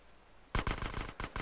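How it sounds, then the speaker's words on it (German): Automatic AK rifle fire from GTA San Andreas: a burst of rapid, loud shots followed by two shorter bursts, close and punchy, with no talking over them. "Können wir mal AK austesten. Yeah, geiler Sound."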